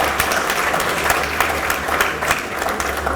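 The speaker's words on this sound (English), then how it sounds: "I believe all the countries deserve a round of applause." Audience applause for the more than 30 participating countries at an international expo, a dense, steady wash of many hands clapping throughout with a faint low hum beneath.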